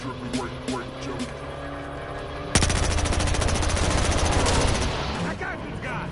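Rapid automatic gunfire in the video game Battlefield Hardline starts abruptly and rattles on loudly for about two seconds over a background of game ambience, then fades.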